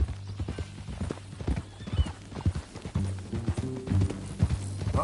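Horse hooves clip-clopping in the Red Dead Redemption 2 video game, a steady walking rhythm of close, crisp hoof strikes with occasional snorts or whinnies and a low hum underneath.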